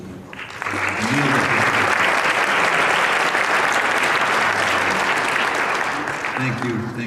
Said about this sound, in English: let's give a round of applause for the meal